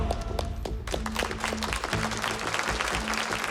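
Studio audience at a Ukrainian magic-trick talent show breaks into sustained, dense clapping, loud and close, steady throughout with a brief dip near the start and a faint sustained tone running underneath.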